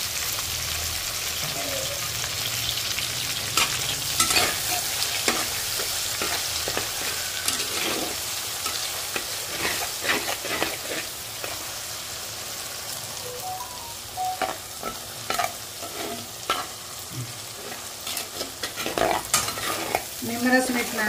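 Chopped onion and sesame seeds sizzle in hot oil in a pan, with a steady frying hiss broken by repeated scraping strokes of a spoon stirring them.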